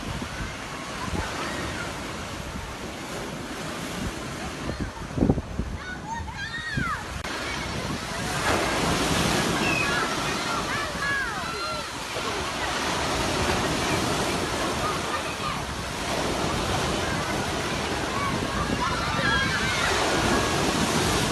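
High ocean waves break and wash onto Naman beach, a loud continuous roar of surf with wind buffeting the microphone and surges swelling at intervals, with faint voices of playing children mixed in.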